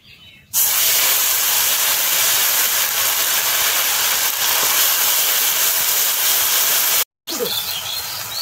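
Cumin and chili paste hitting hot oil in a pan for an aam shol fish curry, a loud, sustained sizzle that bursts in suddenly, carries on steadily, and cuts out briefly near the end before resuming.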